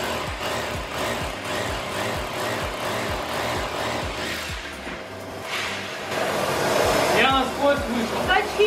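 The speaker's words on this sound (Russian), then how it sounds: "Для его крепления, конечно же, нужен перфоратор" A rotary hammer drills into an apartment wall, hammering and whirring in a fast pulsing rhythm, nearby and loud, with voices talking briefly toward the end.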